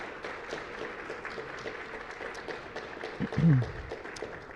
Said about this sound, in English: So please, a round of applause for Scott.